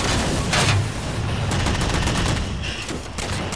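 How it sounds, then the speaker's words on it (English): A Mantis mech's charge shot in Halo 4 bursts out as a loud, roaring blast amid continuous heavy weapon noise, with sharp energetic cracks and a rumbling wash of combat sound throughout. "that's where I do the charge shot for the first time"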